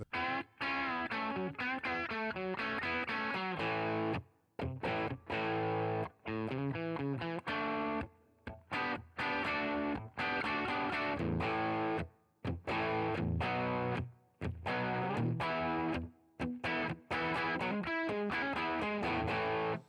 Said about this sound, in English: All it is, a deluxe reverb cranked up a little bit.